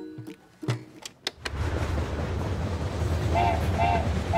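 A few sharp clicks and knocks give way to a steady low rumble of a moving train, with faint whistling tones riding over the noise.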